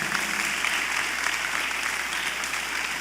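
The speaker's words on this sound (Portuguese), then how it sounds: "Dá uma salva de palmas, acorda aí em nome de Jesus." Steady, dense applause from a church congregation during a Bible lesson, a continuous wash of many hands clapping throughout with no pauses.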